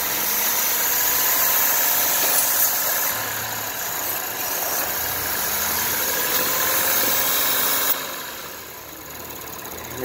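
A 2008 Lexus IS250 AWD engine idles with a low, even rumble and constant mid-range hum, recorded at the exhaust, loudness dipping slightly near the end; no voices.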